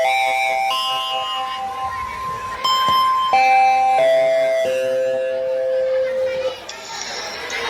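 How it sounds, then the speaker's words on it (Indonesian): An electronic school bell chime at an elementary school in Banda Aceh signals the start of class, a melodic sequence of sustained tones played loudly over the chatter of children in the background. "bel tanda masuk telah berbunyi"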